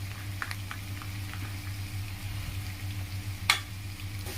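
Ginger paste frying on low flame in a pan, a quiet steady sizzle with a few light stirring scrapes and one sharper clink of the utensil near the end.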